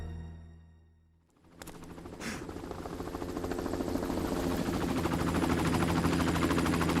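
Helicopter over the RPD helipad in Resident Evil 2, its rotor thrum rising out of a quiet moment after a sharp crack and building into a steady, loud, chopping drone that grows closer and stronger.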